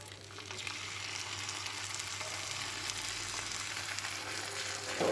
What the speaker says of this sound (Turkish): Şimdi tekrardan balığımızı koyuyoruz